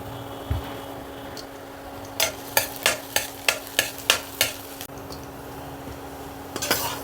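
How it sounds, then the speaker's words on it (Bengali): Chopped garlic fries in a little hot oil in a wok, giving a steady low sizzle and a hum, with a run of about eight evenly spaced, crisp stirring scrapes in the middle. "রসুনটা ভাজা হয়ে গেছে"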